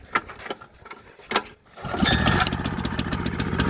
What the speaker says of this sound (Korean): 엔진 소리 아주 좋습니다